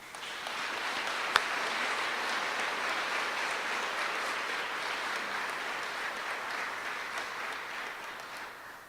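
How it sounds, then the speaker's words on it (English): Sustained applause from a large audience at a military clemency ceremony at Fort Sam Houston honoring 110 Black soldiers, a steady dense wash of clapping lasting throughout with one sharp clap standing out early, fading slightly at the end. "Please give a final round of applause for their dedication and tireless efforts."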